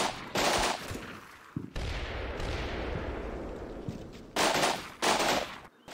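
Suppressive gunfire in the wargame Combat Mission Shock Force 2, loud bursts of shots at the start and again near the end, with a sustained rumbling barrage rolling between them.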